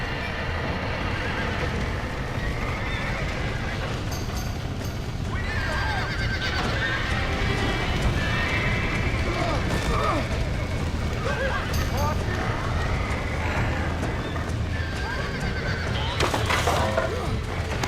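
Horses neigh and whinny from inside a burning barn in the Red Dead Redemption video game, repeated loud cries over hoof clatter and background rumble, with voices talking across the scene.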